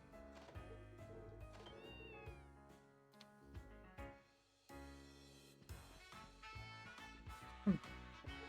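A cat meows a few times inside the video game The Legend of Heroes: Trails to Azure, with the short calls mixed into the game's background music.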